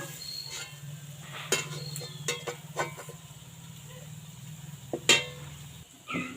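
Spoon scraping and clinking in a pan while suji halwa with dry fruits is stirred, scattered sharp taps over a low steady hum and faint sizzle.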